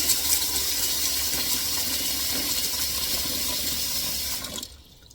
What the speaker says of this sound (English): We're going to add enough water to just cover over the peas.